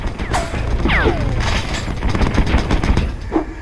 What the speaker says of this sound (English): With a mini gun.